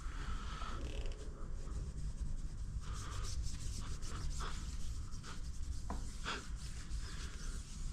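A microfiber cloth rubs and polishes billet aluminum radius rods, giving quiet continuous scrubbing and swishing strokes with brief sharper squeaks, close and soft, with no talking.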